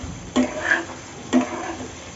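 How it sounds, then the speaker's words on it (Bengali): A beef liver roast is stirred in the pan after salt is added, giving two brief scraping clinks about a second apart, close and fairly quiet, with a soft background hiss between them. "লবণ দিয়ে মিশিয়ে নিলাম"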